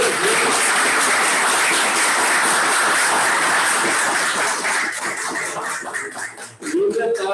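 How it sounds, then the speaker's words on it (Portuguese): Loud applause from an online debate audience at a venue, sustained dense clapping that tapers slightly toward the end, with brief voices near the close. "uma salva de palmas"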